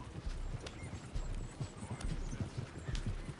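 Horses' hooves clip-clop in a steady, fairly loud rhythm while riders move at pace in the video game Red Dead Redemption 2, with no voices over the hoofbeats.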